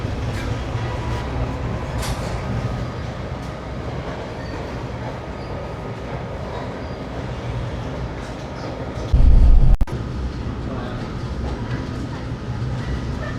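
Interior of a moving Alaska Railroad passenger train: a steady, close rumble of wheels and carriage runs throughout, with a short louder thump near the end and no clear speech.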